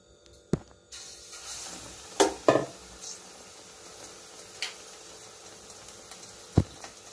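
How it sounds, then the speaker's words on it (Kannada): Banana slices dipped in batter drop into hot oil for banana podi fritters. A soft sizzle runs underneath, broken by a few clattering knocks of utensils against the pan, with no talking. "ಈಗ ಇದನ್ನು ಬಾಳೆಹಣ್ಣನ್ನು ಹೀಗೆ ಮುಳುಗಿಸುವ ನೋಡಿ ನಾನು ಎಣ್ಣೆ ಇಟ್ಟಿದ್ದೆ ಎಣ್ಣೆಗೆ ಹಾಕ್ತೇನೆ ಈಗ"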